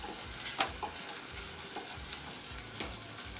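Onion frying in a pan, a soft steady sizzle broken by a few scraping spatula strokes as it is stirred, close up and fairly quiet.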